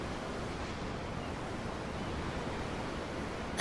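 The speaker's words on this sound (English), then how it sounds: "The ocean? Yeah. The waves." Ocean waves roll in a constant, hissing wash around a ship at sea in Tales of Arise, even and moderately loud with no voices.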